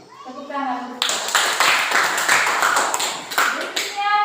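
Children in a classroom clapping their hands together in a burst of quick, close applause, preceded by a voice speaking and with a voice returning near the end.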